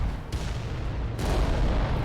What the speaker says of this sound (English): It's the volcano cannon.